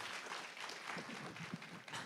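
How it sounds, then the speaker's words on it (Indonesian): A round table discussion audience applauds Professor Antoni, faint continuous clapping from a crowd, steady and even throughout. "Tepuk tangan untuk Profesor Antoni."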